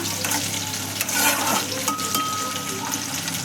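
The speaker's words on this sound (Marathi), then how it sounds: "त्यानंतर हा कांद्याचे हे पाकळ्या टाकूया, गॅस मोठाच ठेवा" Onion petals for pasta hit a pan on high heat with a loud, dense, steady sizzle, a few stirring scrapes mixed in and a brief thin whistle-like tone partway through, with no talking.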